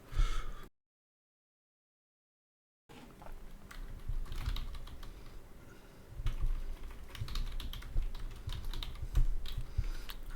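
Computer keyboard typing while writing Python code, rapid uneven key clicks near the microphone after a short silent gap, continuing steadily to the end.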